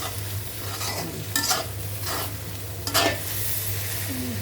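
Cinnamon and cardamom sizzle steadily in hot oil in a pan while Shamai is being made. A few louder scraping bursts from stirring break through the sizzle, and no one speaks.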